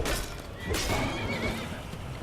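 Horse Nebula whinnies in Skyrim VR, a short, fairly loud neigh with a broad, breathy edge rising over the steady background of the game world.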